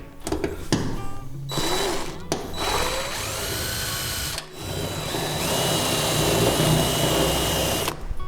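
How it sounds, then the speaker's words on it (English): A power drill whirs in bursts, stopping and restarting, then grinds steadily through metal drilling out spot welds on a rusty 1972 car, at close range, loud and continuous toward the end. "you just drill those bad boys out"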